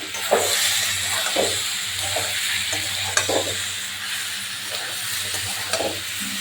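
Boiled potatoes hit hot oil with well-cooked spices and garam masala, giving a steady close sizzle broken by scraping, clattering stirs at irregular intervals.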